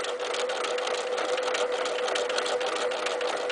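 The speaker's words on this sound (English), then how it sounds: "So I can actually stitch in circles" Continuous fast mechanical whirring of a sewing machine doing free-motion embroidery, stitching circles on fabric without turning it, steady and close with no pauses.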